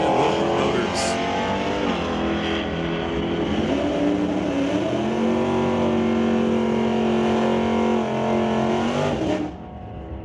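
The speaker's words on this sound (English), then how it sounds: "Again, Jim Banky racing that 7-3 Scamp going up against Chris Stones' Dodge Dart for Stonewall Racing and Wilbur Motors." A Plymouth Scamp and a Dodge Dart run a drag race at a pro race event, engines roaring loudly and steadily at high revs for about nine seconds before cutting off abruptly.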